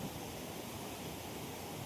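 Mountain stream water running down from Eettithoppu drops in a strong fall, making a continuous, close, even roar of falling water with no talking.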